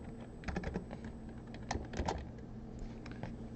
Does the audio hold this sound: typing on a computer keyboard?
yes